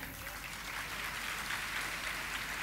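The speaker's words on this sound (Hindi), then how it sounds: "शानदार प्रस्तुति के लिए जोरदार तालियां एक बार फिर से।" Applause from a crowd at a college freshers' welcome celebration after a performance, a steady wash of many hands clapping throughout, fairly even and sustained.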